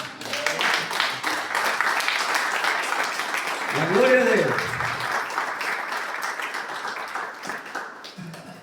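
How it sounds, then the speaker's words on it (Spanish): A church congregation gives the Lord a loud round of applause during a sermon, a dense sustained clatter of clapping that swells and fades, with a voice speaking over it partway through. "¿Cuánto le dan un fuerte aplauso al Señor?"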